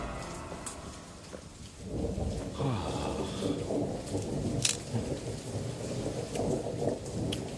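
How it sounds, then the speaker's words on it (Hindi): Steady rain falls with deep rumbling thunder rolling in after a quiet start, the downpour dense and continuous throughout. "फिर से धूप में बारिश हो रही है।"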